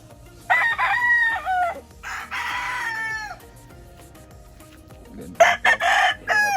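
A gray-hackled gamefowl rooster at a game farm crowing, three loud near cock-a-doodle-doos in succession with brief pauses, plus faint clucking and farm ambience between calls.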